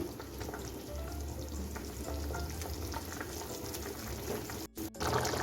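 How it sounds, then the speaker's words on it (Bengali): Bottle gourd kofta simmering in boiling curry gravy over high flame, a steady close bubbling sizzle running throughout with no talk, briefly cut out near the end. "দেখুন আমার গ্রেভিটা ফুটে উঠেছে এখন আমি কোপ্তাগুলো দিয়ে দিচ্ছি"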